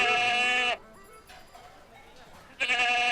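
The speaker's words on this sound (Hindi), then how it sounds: "किसकी बकरी? किसकी बकरी है?" Two loud, nasal goat bleats, one at the start and one at the end, separated by a quiet pause with faint background noise.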